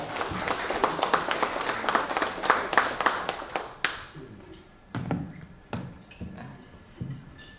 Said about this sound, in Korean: 큰 박수로 환영하기 바랍니다.